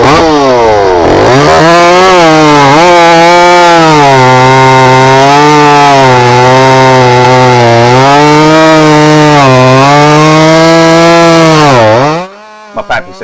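A ported chainsaw runs hard through a wood cut, its loud raspy engine note holding high with slight rises and dips before dropping off abruptly near the end, very close and alone.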